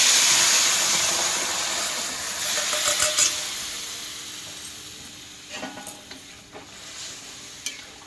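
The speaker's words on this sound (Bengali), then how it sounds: "তরকারিটা আমি ওর মধ্যে ঢেলে দিচ্ছি।" Curry is poured into a pan of fried duck eggs, setting off a loud hissing sizzle that gradually calms, followed by a few stirring clinks and scrapes near the end.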